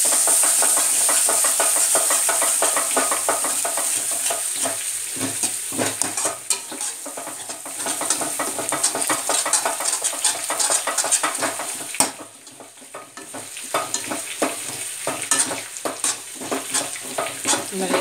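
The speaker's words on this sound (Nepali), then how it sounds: "तेलमा मजाले फ्राई गर्नु।" Fish curry gravy fries in hot oil and sizzles loudly while a spoon stirs it hard, with constant scraping and clanks against the pot and a short pause partway through, close up and with no speech.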